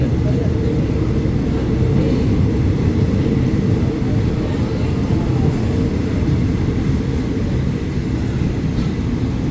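Thai express train no. 84 with a long rake of 15 carriages, including two extra Surat Thani coaches, at Ban Pong station: a steady, loud low rumble of rolling stock that holds for the whole stretch.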